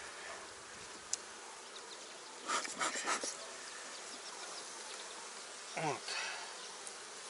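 Steady honey bee buzzing fills the background, with brief louder passes as bees fly close to the microphone during spring hive work; someone speaks a word.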